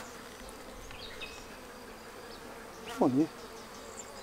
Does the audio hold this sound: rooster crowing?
no